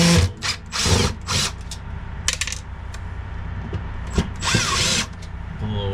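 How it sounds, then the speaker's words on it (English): A cordless power drill spins screws out of a Dometic RV heater vent in several short whirring bursts, with small clicks and metallic clinks between runs, close and fairly loud. "we need to put these screws out on the vent here on the other side."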